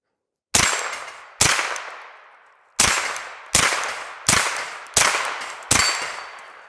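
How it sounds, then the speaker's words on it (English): Seven sharp gunshots from a pistol-caliber carbine, fired at an uneven, unhurried pace outdoors, each loud crack followed by a ringing decay, with no talk. "So let's put some rounds down range and see how she runs."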